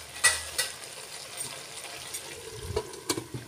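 Mixed vegetables, including beans, sizzling as they cook in a pan for a restaurant-style mixed veg dish: a faint, steady sizzle broken by a few light clinks and stirs.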